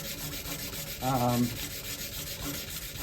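Sandpaper of 220 grit rubs steadily across the flat of a custom cleaver blade with a hamon, a constant close rasping hiss with a brief tonal squeak midway, and no one speaking.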